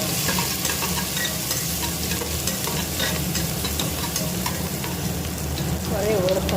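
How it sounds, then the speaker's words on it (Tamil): Curry leaves drop into onions and masala frying in oil for a mutton gravy, giving a steady, loud sizzle with stirring scrapes throughout and a brief crackling flare near the end. "வெங்காயம் நல்லா வணங்கிடுச்சுங்க. கருவேப்பிலை போட்டுடலாம்."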